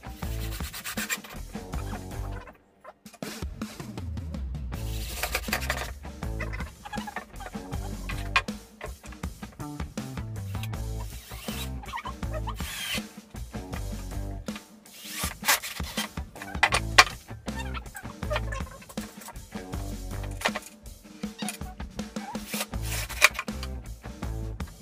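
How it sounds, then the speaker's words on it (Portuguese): Screws are driven into wooden slats for a kitchen spice rack, giving repeated close grinding and rubbing bursts of a screwdriver or drill, with brief pauses between each screw. "Nós já fizemos os furos, agora é só parafusar aqui antes de colocar as nossas prateleiras"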